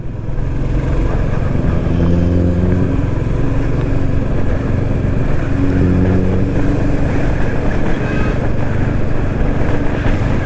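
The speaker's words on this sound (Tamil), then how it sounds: "அதோட எக்ஸாஸ்ட் உங்களுக்கு கேட்குதா?" A modified, lowered Skoda Octavia vRS sends out a loud, continuous exhaust drone, heard over the steady engine rumble and wind rush of a riding motorcycle.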